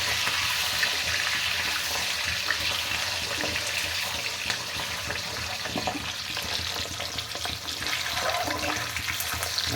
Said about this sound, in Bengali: ডিমগুলা কড়ার ভিতরে দেবার পালা দিয়ে দিচ্ছে একটা দুইটা তিনটা